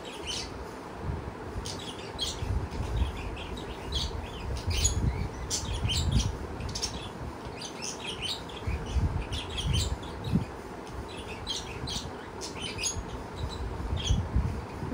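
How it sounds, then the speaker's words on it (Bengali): Two pet birds chirp restlessly indoors, keeping up a rapid, irregular stream of short high tweets and squawks over a low household rumble, with no one talking. "আর এই যে পাখি দুটো ভীষণ বদমাশি করছে, দুজনে ভীষণ ছটফট করছে,"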